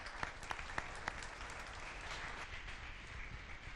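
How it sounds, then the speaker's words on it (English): Audience applause at a startup demo day pitch event, a steady wash of clapping from a crowd with a few sharper nearby claps early on, fairly faint and even throughout. "Round of applause for Drone City."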